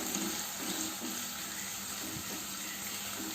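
Shallots sizzling in hot oil, a steady, even frying hiss that holds throughout with faint stirring clatter.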